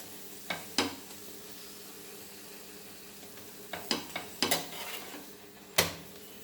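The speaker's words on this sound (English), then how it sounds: "Nicely, both the sides, fry it like golden way." A plain Goan chapati frying golden on both sides in a pan gives a faint steady sizzle, broken by a few sharp clinks and scrapes of a utensil against the pan, with no talking.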